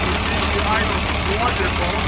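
An International 666 tractor engine idles at a steady, loud low rumble, with a voice present over it.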